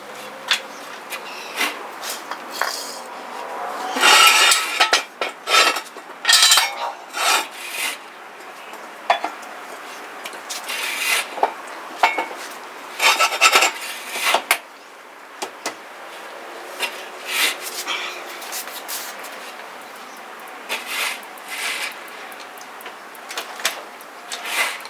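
Wrench working a bolt out of Ford Bronco suspension, close-up metallic scraping and rasping in repeated bursts, with ratcheting and rubbing strokes that come and go over several seconds amid quieter stretches.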